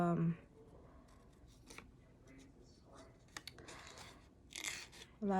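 Scraping and rubbing of a metal scissor blade being cleaned of glue, with short rasping strokes and clicks between brief bursts of speech at the start and end.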